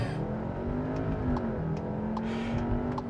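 A 2022 Skoda Kodiaq RS launches hard using launch control in sport mode with traction control off, its engine droning loud and steady as the revs climb, dip briefly at a gear change and rise again.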